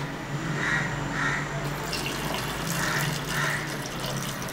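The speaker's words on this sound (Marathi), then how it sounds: "आणखीन एक कप आपल्याला ह्यात पाणी लागणार आहे." A cup of water pours steadily into a pan of mixed vegetables for a Maharashtrian Sankranti bhaji, producing a continuous close gush with slight surges.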